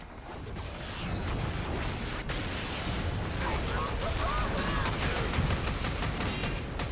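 Akbolto Prime pistols firing continuously in the video game Warframe, a dense, steady stream of rapid shots and impacts heard up close, with a voice speaking over the barrage partway through.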